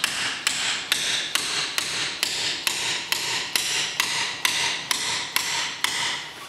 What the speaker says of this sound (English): you can literally hammer this in between the pad and the disc